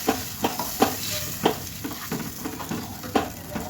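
A vegetable is tossed into hot oil with fried chilies, crackling and sizzling up close while a spoon scrapes and stirs in uneven rhythmic strokes; fairly loud and without talking.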